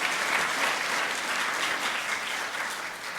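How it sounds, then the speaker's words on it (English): Audience applause for a guest presenter at a partnership meeting, steady moderate clapping throughout, slowly thinning toward the end. "How about a round of applause for Mike?"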